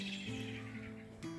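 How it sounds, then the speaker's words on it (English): Startled blackbird giving a short run of sharp chirping calls near a castle and church, ringing out over a steady background hum. "Spooked the blackbird."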